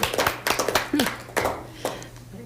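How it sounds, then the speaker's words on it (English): City council meeting attendees applauding after a unanimous vote, a short burst of scattered clapping from a modest group, close and fairly brisk, fading within a couple of seconds. "yeah, can we applaud, please?"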